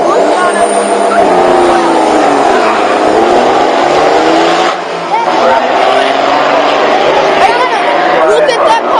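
A car racing down a street at around 80 miles an hour at night, its engine roaring steadily past amid loud crowd chatter and talk from onlookers.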